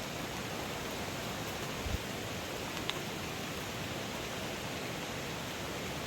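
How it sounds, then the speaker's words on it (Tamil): Steady broadband rush of a waterfall heard from nearby on a mountain trek, a constant even hiss with no talking. "இப்போ நம்ம அருவி பக்கத்தில் வந்தாச்சு."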